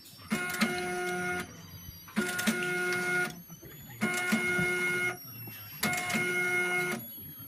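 A Zebra ZE500 label printer on a LAB400 labeller prints labels in four even bursts, each a bright mechanical whirring lasting about a second and a half, separated by short quiet gaps.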